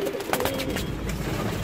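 Pigeons kept by a free-range pigeon farmer coo softly in a short, steady stretch of low murmuring calls close by, with no talk.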